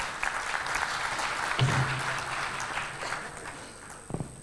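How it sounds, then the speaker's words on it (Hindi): An audience applauds at a film interview event with Sunny Deol and Amisha Patel, a brief wash of clapping with a few sharper claps near the end. "तो तालियों में मुझे वो आवाज सुनाई देनी चाहिए।"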